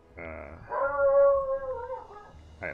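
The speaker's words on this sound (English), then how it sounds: "The dog has clearly heard something outside and is unhappy about it" A dog named Rory howling at something outside, a drawn-out, wavering mournful cry rising and falling close by, with a short yip at the end.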